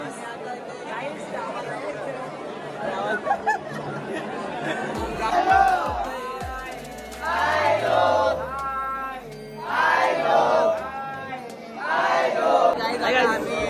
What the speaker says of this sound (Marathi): फुल गर्दी